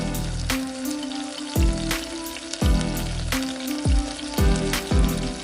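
Butter melts and sizzles in a pan, ready for marinated chicken, with a steady frying crackle broken by repeated low thumps or knocks at regular intervals, fairly close and with no talk.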